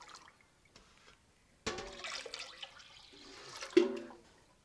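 Hot water poured into a vat of raw-milk cheese curd for a cream-boosted Butterkäse, quiet trickles at first, then louder bursts of splashing and pouring with gurgles near the end.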